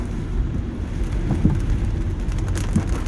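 Rain from a passing storm, a dense, constant wash of falling water heard close by with faint intermittent knocks and rumbles beneath it, no voices.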